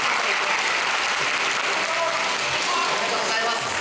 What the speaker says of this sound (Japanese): 皆さん拍手をお願いします